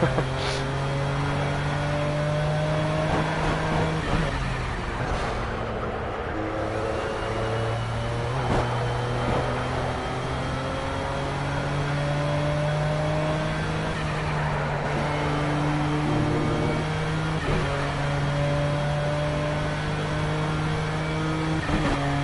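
MP2 class race car engine in the video game Project CARS, a loud, sustained drone that climbs and drops in pitch with each gear shift and lap section, running continuously without a break.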